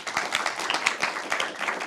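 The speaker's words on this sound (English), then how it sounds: "a round of applause," An audience at a data communications conference session applauds the speakers, a short burst of dense, steady clapping heard fairly close.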